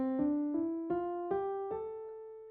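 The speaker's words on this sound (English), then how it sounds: "if you have your natural minor sounding like this," A natural minor scale is played as six separate notes stepping upward, each with a clear attack and a short ring, at a moderate even pace, quiet and close, with no voices.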